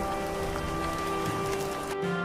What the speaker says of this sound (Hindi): कुछ दिन के बाद मानसून आया और बारिश होने लगी